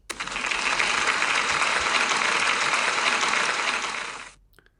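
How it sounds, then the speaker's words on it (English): Steady, dense applause from a crowd, loud and sustained for about four seconds before stopping abruptly. "Can we have a big round of applause, please?"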